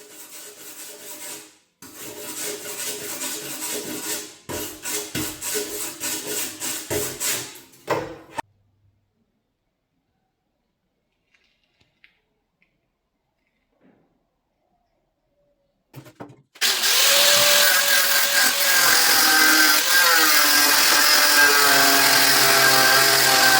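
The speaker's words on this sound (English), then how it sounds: "let's go ahead and just grind up some of these welds and remove that panel" A grinder cuts welds off a rusted mini-truck seat panel. Short rough grinding bursts give way to near silence, then a loud, harsh, continuous grind starts up close and keeps going.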